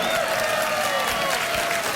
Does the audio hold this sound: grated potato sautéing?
no